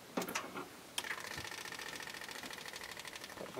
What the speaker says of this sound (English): This is the pump. I can feel the pump pumping.